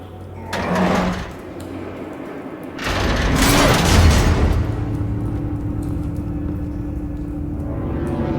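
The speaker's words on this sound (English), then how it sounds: "A normal bullet couldn't have caused that explosion." An explosion in Batman: The Telltale Series: a brief burst, then a loud, broad roaring blast that swells and lingers as a sustained rumble before settling into steady background noise.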